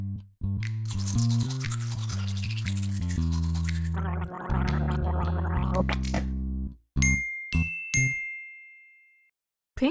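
Cartoon-style toothbrush scrubbing on teeth in a children's lesson, a steady bristly rasp over bright music, followed by a few sparkly chime dings and a ringing tone near the end.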